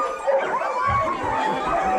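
Sled dogs harnessed to a sled in Juneau, Alaska yip, whine and bark excitedly in a close, overlapping chorus, with a few voices chattering along with them.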